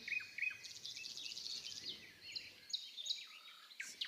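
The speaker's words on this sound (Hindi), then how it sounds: "चिड़िया" Several small birds chirp and trill in quick bright bursts, overlapping calls close by with no other sounds around them.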